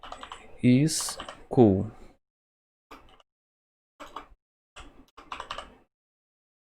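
Keys on a computer keyboard are tapped in a few short, sparse bursts while MySQL database commands are entered, following a stretch of someone speaking.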